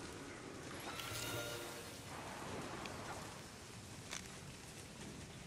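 Scary forest ambience from the Planet Coaster video game: soft steady rain patter with faint low rumbles and a few brief creaks or rustles, quiet and continuous throughout, with no talking.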